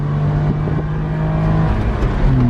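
Engine of a 1992 Suzuki Carry 4WD kei mini truck accelerating in third gear: a steady, loud, close drone with the pitch slowly climbing and then shifting near the end, with no talk over it.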